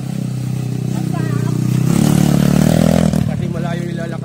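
A motorcycle engine, an MMC2 bike being brought in for a rescue, runs with a rough mid-pitched rumble that swells in the middle, and someone speaks over it.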